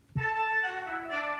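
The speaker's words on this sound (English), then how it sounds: "This is another layer of brass. This is trumpets." Trumpets play a short, bright brass phrase, a sustained note shifting to a second pitch, close and clear.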